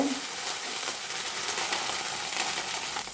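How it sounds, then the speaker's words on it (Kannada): Green chillies and garlic-ginger paste fry in a small amount of ghee, giving off a continuous, even sizzle that stays close and steady throughout. "ಕಾಲು ಸ್ಪೂನ್ ಬೆಳ್ಳುಳ್ಳಿ ಶುಂಠಿ ಪೇಸ್ಟ್ ಮಾಡಿ ಇದನ್ನು ಫ್ರೈ ಮಾಡ್ಕೊಳ್ಬೇಕು"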